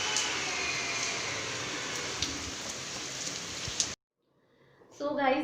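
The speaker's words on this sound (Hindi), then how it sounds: "बहुत ज़ोरदार बहुत अच्छी बारिश हुई है" Heavy rain pours down in a steady, dense hiss with scattered heavier drops, then cuts off abruptly and a voice begins speaking.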